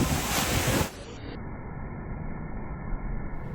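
High wind buffets the microphone on the open upper deck of the cruise ship MSC Virtuosa, a loud continuous roar with rumbling gusts and a steady tonal hum.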